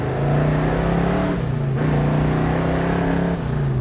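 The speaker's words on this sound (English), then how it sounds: "I promised you to get on the accelerator a little bit." A 1970 Chevrolet Chevelle heard from inside as its engine revs hard under acceleration, a loud steady droning roar that dips briefly once and then climbs again.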